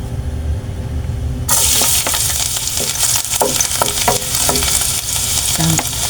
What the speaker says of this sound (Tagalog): mainit na yung ating mantika. So igisa na po natin.